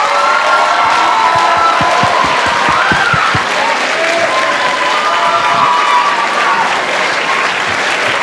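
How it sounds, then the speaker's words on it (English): A school audience gives a young man a big round of applause, loud continuous clapping with some cheering and a few sharp nearby claps early on. "Let's give this young man a big round of applause."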